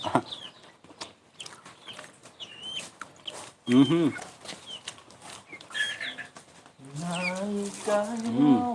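Chickens clucking and squawking nearby, in scattered bursts, with a person talking over parts of it.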